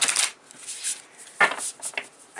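Large tarot cards being shuffled up close, with quick riffling bursts, papery flutters and a sharp snap partway through, no voice over them.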